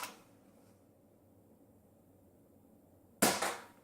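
Nerf gun firing foam darts at targets: a sharp pop near the start and another loud, close burst near the end, with a quiet gap between them.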